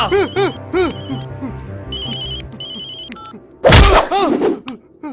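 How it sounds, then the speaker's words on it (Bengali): An electronic phone ringtone chirps in repeated bursts, loud and close, with a thud and a burst of noise near the end. "ফোন উঠা"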